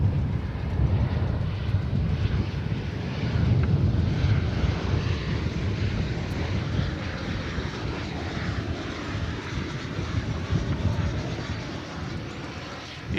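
Airliner arriving at Dallas/Fort Worth (DFW) Airport on a flight from McAllen, Texas, a steady broad engine roar that holds loud and continuous for the whole stretch, with a slight wind rush and no voices.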